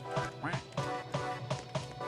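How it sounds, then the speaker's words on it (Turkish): A cartoonish duck in the Roblox game Strongman Simulator lets out a run of short, nasal quacks in quick succession, about seven bursts, fairly close and clear. "Ördek sesleri de çıkarıyor."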